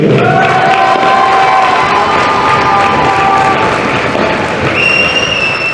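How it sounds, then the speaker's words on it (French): A crowd at a men's doubles final in France applauds and cheers as a player is introduced, a loud sustained roar of clapping with shouts and whistles layered on top. "Je vous demande d'applaudir Adrien Maigret."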